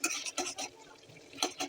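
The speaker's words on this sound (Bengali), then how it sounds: "কষিয়ে নিব মশলাটাকে ভালো করে।" Spice masala being stirred and fried in a pan for a spicy tengra fish curry, with short scraping strokes and a gap of quiet sizzle between them.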